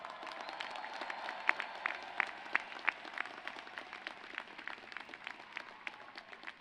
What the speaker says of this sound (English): let's also celebrate your families and friends with a very big round of applause